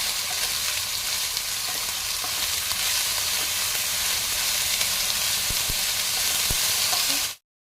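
Leafy greens frying and being stirred in a pan, with a loud, continuous, dense sizzle throughout that cuts off abruptly at the end.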